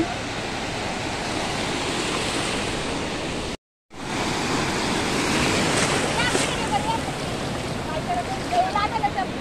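Sea waves surge and break on a beach in a loud, steady wash of surf with wind buffeting the microphone, briefly cut out once, while people talk and call out nearby.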